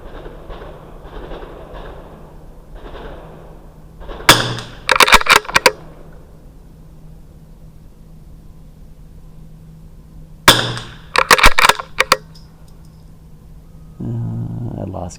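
Two bursts of .22LR rifle shots from a RimX rifle firing Lapua and SK match ammunition. Each burst holds several sharp cracks in quick succession, with quiet stretches and faint talk between the bursts.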